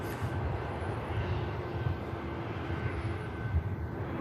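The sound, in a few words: aircraft arriving from Marrakesh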